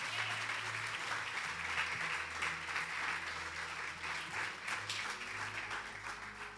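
A church congregation applauds loudly and steadily for several seconds, dense clapping filling the room over a low sustained keyboard tone.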